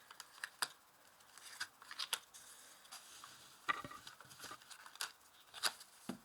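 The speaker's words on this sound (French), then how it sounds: "Donc maintenant je vais tirer 5 cartes." Tarot cards are drawn from a deck one after another, producing soft close slaps, flicks and papery rustles in an uneven rhythm, faint and otherwise quiet.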